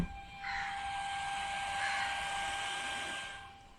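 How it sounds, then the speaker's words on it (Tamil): The cooling fan inside an Ather electric scooter charger runs with a steady, breathy whir that swells in, holds evenly for a few seconds, then fades, with no voices. "ஸோ அப்போ சார்ஜர் பொதுவாக இங்கே ஃபேன் நாய்ஸ் கேட்கும் பாருங்கள்."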